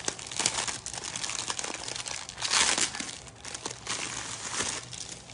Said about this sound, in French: je vais juste ouvrir le paquet. Donc, ça vient dans un sac comme ça ici.